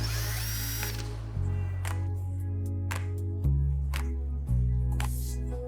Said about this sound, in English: Then secure the pump with number 8 Phillips pan head screws.